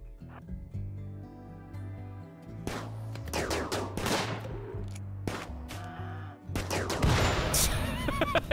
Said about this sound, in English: Oh, the turrets are shooting it.